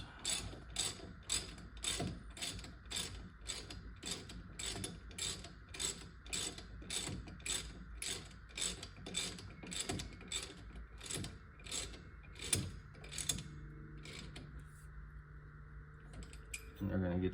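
A ratchet cranks in a steady run of rapid, evenly spaced clicks as caliper slide bolts are tightened on a 2011 Chevy Silverado during a wheel bearing replacement, close and continuous, slowing near the end.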